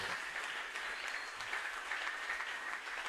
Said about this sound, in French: Nous pouvons l'acclamer très fort.